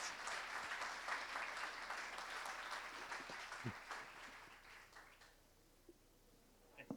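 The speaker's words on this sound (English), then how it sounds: "let's just end it with a big round of applause" Panel-event audience in Medellín claps for the speakers, a dense round of applause that thins out after a few seconds into scattered claps and room noise.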